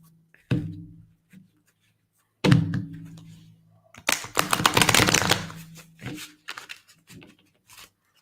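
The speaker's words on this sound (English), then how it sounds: "Okay, I'm shuffle the cards" Playing cards being shuffled by hand: a couple of soft thumps, then a dense riffling burst of about a second and a half, followed by scattered taps and card handling close by, with no speech.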